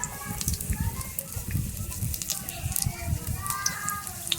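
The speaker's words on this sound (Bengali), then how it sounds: "গোটা গরম মশলা থিতু করে রেখে দিয়েছিলাম, ওটা দিয়ে দিলাম তেলের মধ্যে।" Whole garam masala spices dropped into plenty of hot oil give a soft, steady crackling sizzle, fairly quiet throughout, with a voice faintly audible in the background.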